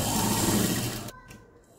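A sewing machine stitches a baby's cap, running loud and steady for about a second before stopping abruptly, leaving only a faint low tail.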